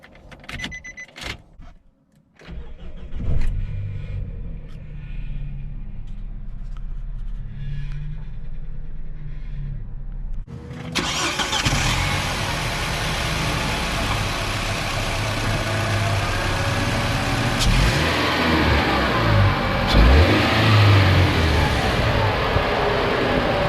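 The 4-cylinder engine of a 2010 Nissan Frontier with a 5-speed manual cranks and starts, then idles and revs with a loud, steady rumble heard from inside the cab.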